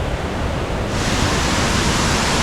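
A waterfall near Luang Prabang, Laos, where swimming is allowed, gives a loud, steady, broadband roar of rushing water with no voices.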